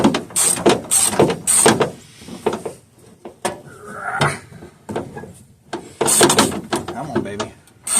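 Ratchet wrench on a 10 mm bolt of a Ford F-350 truck, with bursts of close clicking and creaking strain, interrupted by quiet gaps and someone speaking.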